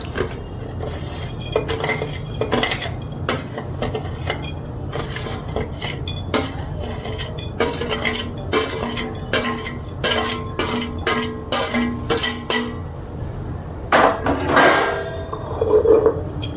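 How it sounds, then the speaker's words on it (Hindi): Metal spoon clattering and scraping against a pot while ingredients are mixed together with salt, a busy run of close knocks and clinks with brief pauses and no talking. "नमक और सब डाल के उसको मिक्स कीजिए"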